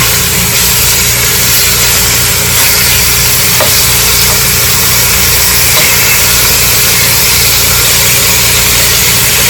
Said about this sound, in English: I'm just going to show you how I sear the first portion